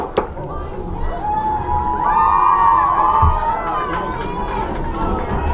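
A crowd at a high school football game buzzes with cheering and shouting that swells in the middle, a broad steady roar with a voice speaking over it.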